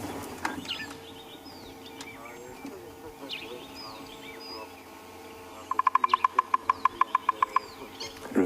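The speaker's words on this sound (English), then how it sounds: "Woodpecker beating on a tree." A large woodpecker, golden-tailed or bearded, drums on a tree during a still morning on safari, giving a fast, even burst of about a dozen sharp knocks after a quiet stretch with faint bird calls.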